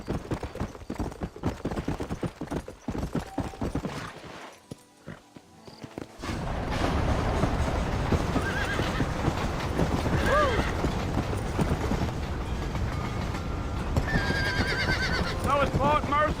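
Horses in the Western video game Red Dead Redemption whinny and snort repeatedly over steady clip-clop hoofbeats and galloping, with game music and ambient noise; the sound drops out briefly partway through before swelling into busier, louder riding.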